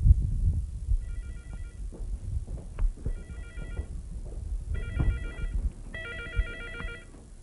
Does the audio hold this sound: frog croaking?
no